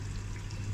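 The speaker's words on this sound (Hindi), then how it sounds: "अब इसमें मैं डालूंगी थोड़ा सा पानी" Water poured into a pot of browned pumpkin for a daal kaddu curry, a brief steady trickle over a low background hum.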